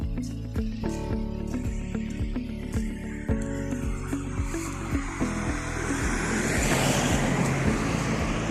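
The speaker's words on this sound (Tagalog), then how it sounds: "Ayan na, mga sasakyan, oh." Cars and trucks pass on a foggy road in steady traffic, with a rhythmic series of engine and tire thumps at first, then a broad rushing whoosh as a large vehicle goes by close.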